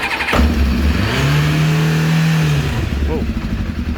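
Kawasaki GPX 600R motorcycle engine on choke cranks briefly, then catches and starts, settling into a loud, steady running drone close by, with a rev rise toward the end.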